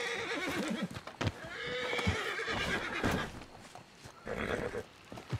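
A horse in the Red Dead Redemption 2 video game gives several loud whinnies and neighs while its hooves clip-clop. Game effects sound in between.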